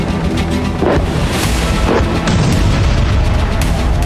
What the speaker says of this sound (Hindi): धमाकों की गूंज से जर्रा जर्रा थर्रा उठा